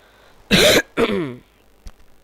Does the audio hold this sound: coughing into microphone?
yes